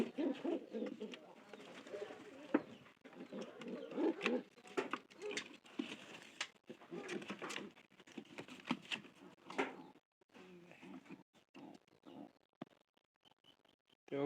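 Pigeons in a village coop cooing and fluttering close by, with irregular soft calls, wing patter and rustling over the full stretch, a quiet dog-like sound now and then.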